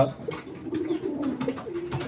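A big male racing pigeon from a club loft coos in low, rolling phrases, repeated close by over a steady murmur of other birds.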